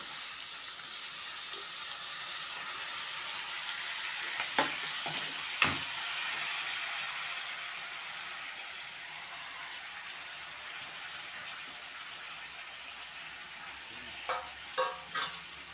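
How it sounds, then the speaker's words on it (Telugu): Onions and fenugreek leaves frying in a mustard and cumin tempering, a faint steady sizzle with a few sharp stirring knocks and scrapes, no voices. "ఆనియన్స్ మెంతాకైతే వేసేస్తా ఫస్టే"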